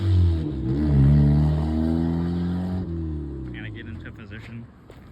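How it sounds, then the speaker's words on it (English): A budget turbocharged Mazda Miata with an intercooler revs up and down nearby, its pitch rising and falling in loud swells before settling lower as the engine note fades. "That thing's running good."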